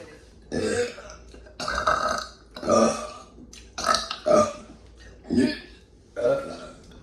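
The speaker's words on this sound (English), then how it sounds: "your burps are really nice and long" A person lets out a series of long, deep burps, about seven loud ones in a row with short pauses between them, close to the microphone.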